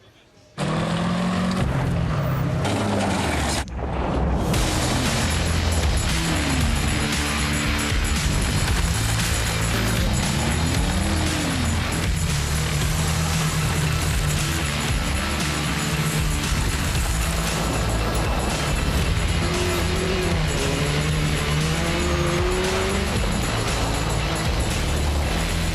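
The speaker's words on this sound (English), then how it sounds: "cars are pulling onto the grid for our first final of the weekend" Rallycross cars at the 2019 ARX2 event in Canada roll onto the starting grid for a final, a steady loud engine roar with revving swells throughout, under crowd and ambient noise.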